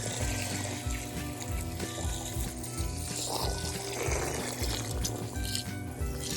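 A toy monster truck splashes and sloshes through water during play, with continuous loud churning and pouring water sounds close by and no speech.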